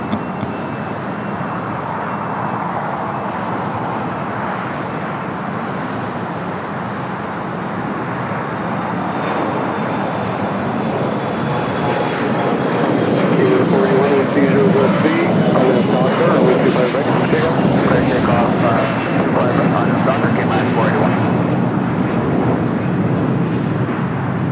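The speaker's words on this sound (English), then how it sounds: "Dreamliner is certainly not in a hurry to go over there to the gates" A Boeing Dreamliner taxis slowly toward the gates at LAX, a steady, distant jet engine rumble and whine that swells somewhat louder partway through, with someone talking over it and background airport traffic.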